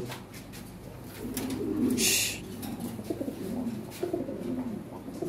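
Lahori Shirazi pigeons at a pigeon farm coo softly in low, repeated rolling phrases close by, with a brief burst of rustling noise partway through and quiet room ambience underneath.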